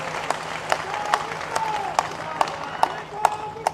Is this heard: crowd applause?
yes